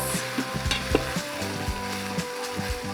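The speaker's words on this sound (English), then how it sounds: "I'll go ahead and throw in our red onions, followed by our red pepper, and my favorite, the sweet potato" Red onions, red pepper and sweet potato sauté in a pot for stewed black-eyed peas, giving a soft continuous sizzle broken by repeated close spoon knocks and scrapes as the vegetables are tossed; no speech.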